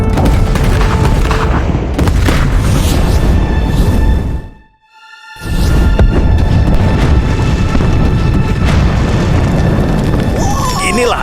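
Warship cannons fire in an animated folk tale battle, loud booming blasts with a brief silent gap midway before the barrage resumes.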